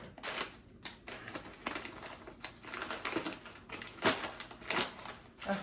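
Scissors snipping open a plastic stuffing mix package, a run of sharp, close clicks and crinkly cuts in an uneven rhythm, quiet overall with no talking.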